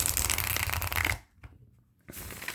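A new, still-stiff Encore Tarot deck is shuffled close up, with a dense riffling burst, a short pause, then the card flutter resuming.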